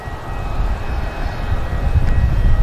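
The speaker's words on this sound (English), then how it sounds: "Lovely takeoff from the TAP Air Portugal." A TAP Air Portugal airliner taking off from Manchester Airport, its engines a broad, low roar that swells steadily louder, heard from a distance with no voices.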